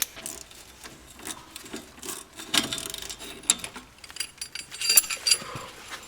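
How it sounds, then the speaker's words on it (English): A ratchet turns a 16 mm bolt during front shock replacement on a VW Polo Mk5, making close, irregular bursts of sharp metallic clicking with short pauses and no talk. "And then get your ratchet."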